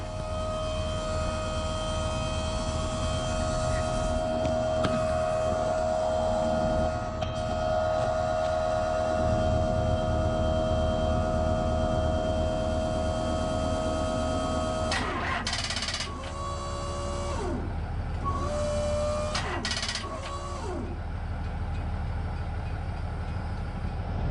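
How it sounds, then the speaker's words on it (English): An old first-generation engine runs with a steady mechanical hum and a sustained tonal whine, heard close and continuous, with a few sharper clanks and shifts in tone near the end. "Hear that pump? Pumping."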